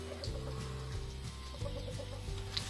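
Chickens cluck in quick repeated bursts on a farm near banana plants, close and fairly loud with a busy background of birds.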